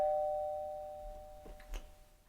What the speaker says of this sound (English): we interrupted this video on space because my doorbell rang